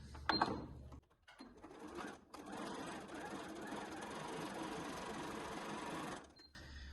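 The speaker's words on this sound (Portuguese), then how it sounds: "vou fazer uma costura de pé de máquina" Sewing machine stitching fabric with the presser foot for a handmade clutch bag, a faint steady mechanical whirring run of several seconds framed by brief clicks and starts.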